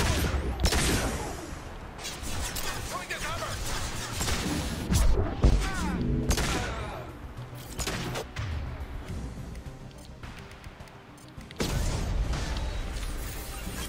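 Gunfire rattles through a Mass Effect 2 firefight in bursts of rapid shots mixed with crashes and impacts, loud and dense with short gaps between volleys.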